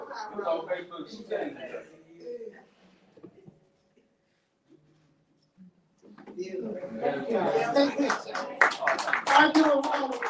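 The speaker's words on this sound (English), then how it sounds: "I give a round of applause." Talk opens an award ceremony, falls silent for a couple of seconds, then an audience breaks into dense clapping that carries on under continuing voices until the end.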